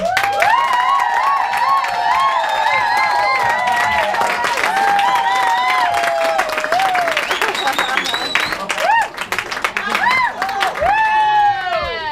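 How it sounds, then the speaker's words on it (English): A crowd at a Clown Slam competition claps and cheers for a clown performer, with loud whoops and shouting voices riding over dense, continuous applause throughout. "Round of applause, please, for Yael"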